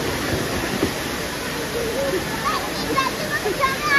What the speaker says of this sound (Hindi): फ्रेंड्स अब हम जा रहे हैं वाटरफॉल के नीचे